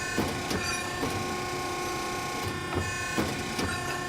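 A Mac Tech Piranha ironworker machine runs under foot-pedal control, producing a steady mechanical hum broken by sharp clanking strikes that repeat at uneven intervals about every half second to a second.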